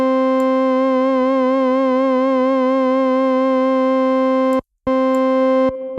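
An AudioThing Philicorda organ plugin holds a bright sustained chord with a gentle wavering vibrato. The chord cuts out abruptly near the end, then resumes briefly, alone without speech.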